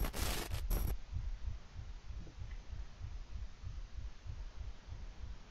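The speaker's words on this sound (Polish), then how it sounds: "Dodali bicie serca." A slow, deep heartbeat pulses evenly in the horror video game Layers of Fear, about a dozen muffled thumps under a low hum after a short burst of noise at the start.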